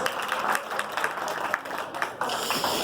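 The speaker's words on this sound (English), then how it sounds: "So clapping for yourself just once, please." Scattered audience clapping at a motivational public-speaking talk, a steady patter of hands throughout that stays moderately loud with a few sharper claps standing out.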